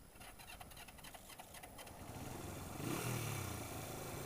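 A 1980 Yamaha XS400 Special II motorcycle engine runs rich on choke, a close, rough rumble that swells louder partway through and settles into a steady idle.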